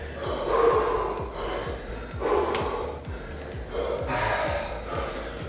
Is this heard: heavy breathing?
yes